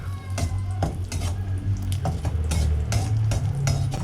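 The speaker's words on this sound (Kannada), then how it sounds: "ಒಂದು ಪ್ಯಾಕೆಟು ದ್ರಾಕ್ಷಿ ಹಾಕೋತಾ ಇದ್ದೀನಿ ಈಗ ಅದನ್ನು ಹಂಗೆ ಮಿಕ್ಸ್ ಮಾಡ್ಕೊಳ್ಳೋಣ" Raisins are stirred in oil in a pan over a low flame while making bread halwa, the spoon scraping and knocking against the pan in repeated close strokes under a steady low hum.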